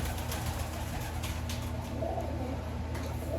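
Newly arrived racing homing pigeons coo softly and repeatedly at close range, low throaty calls over a quiet background with no talking.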